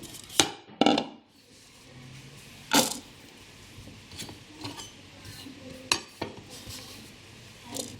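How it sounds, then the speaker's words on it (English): A few sharp knife knocks on a cutting board while finely chopping garlic cloves, spaced irregularly with quiet pauses between them, close and clear. "So I'm just chopping 2 cloves of garlic until it's quite fine."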